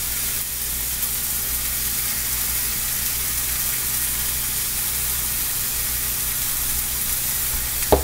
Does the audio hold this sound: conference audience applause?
no